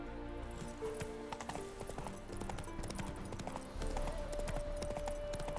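A horse gallops in The Witcher 3, its hooves clip-clopping in a quick, steady rhythm over game music and ambience, with a brief whinny and no talk heard.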